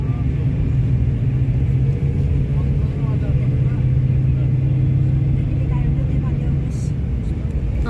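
Inside a bus on the road, a steady low engine rumble and drone fill the cabin with a constant hum, while voices murmur faintly underneath.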